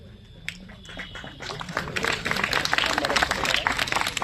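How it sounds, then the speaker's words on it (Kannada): Audience applause at a badminton fest prize distribution, scattered claps at first that swell into steady clapping from a crowd, fairly faint and distant. "Give them a big round of applause."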